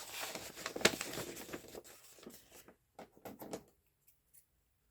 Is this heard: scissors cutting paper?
yes